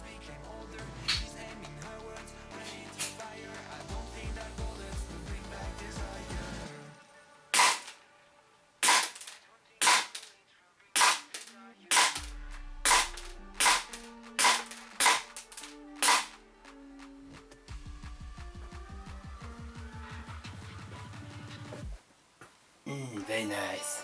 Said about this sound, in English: stay tuned for the shooting demonstration, which is at the end of this video